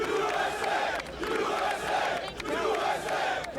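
A large American crowd at a gathering with President Bush roars and chants in unison in swelling, rhythmic waves, a dense mass of voices heard from a distance.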